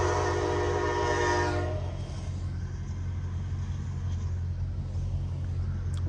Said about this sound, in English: I'm trying to figure out where that train coming from though